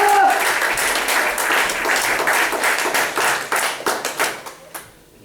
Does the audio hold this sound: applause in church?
yes